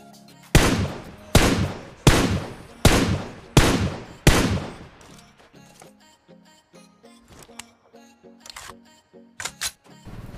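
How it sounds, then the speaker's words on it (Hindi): Gunfire from PUBG Mobile: six loud, evenly spaced single shots ring out close by over the first few seconds, followed by quieter scattered clicks, footsteps and small game sounds. "मैंने उसके ऊपर ऐसे ही उसे डराने के लिए फायर लिया"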